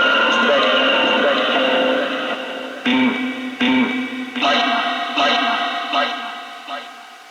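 Echo-laden spirit box app voices, a Necrophonic-style ghost-hunting app, sounding as choppy radio-like bursts that repeat and trail off with reverberant tails, fairly loud and fading toward the end.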